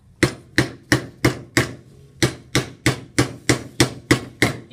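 A hammer strikes sheet metal over a hole in a doming block, forming a dome: about a dozen sharp, evenly spaced metallic blows with a short pause partway through, close and loud with no talk.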